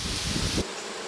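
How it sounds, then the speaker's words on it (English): Gentle honey bees buzz busily at the front entrance of an autumn hive, a loud, close, dense hum that cuts off sharply partway through, leaving only quiet background. "These bees are gentle."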